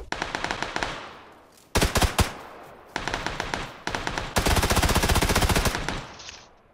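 Gunfire in the video game PUBG: several loud bursts of rapid automatic shots separated by short gaps, ending with a longer sustained burst, close and punchy, no talk.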